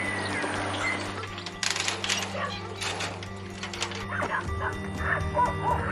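Several dogs barking and yipping inside a neglected property during an animal cruelty investigation in Houston, a busy chorus of barks in a cluttered indoor space with a steady hum beneath.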